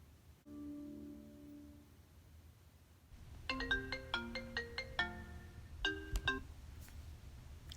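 A melodic phone ringtone sounds as crew scheduling calls a reserve flight attendant: a few soft tones first, then a loud, bright run of repeated chiming notes for several seconds, with no talking.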